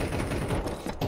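Rapid gunfire in a Counter-Strike 2 match on Nuke, a dense burst of quick shots filling the moment, loud and close with no talk over it.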